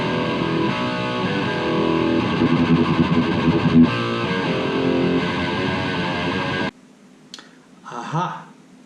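Distorted thrash metal electric guitar through an Engl Savage mk2 amp, captured by a Neumann mic on the edge of the speaker, plays loud dense riffing for about seven seconds, then cuts to a brief quieter tail with a short voice.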